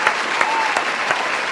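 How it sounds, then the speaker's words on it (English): A short burst of dense applause from a crowd, steady and loud throughout with a few sharper claps standing out. "Here's a round of applause"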